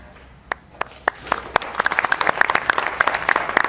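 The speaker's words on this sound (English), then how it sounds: "Oh, look, you get an applause." Applause for Chicago Booth students at a shareholder meeting, starting with a few scattered, distinct claps that quickly swell into fuller, denser clapping from the crowd.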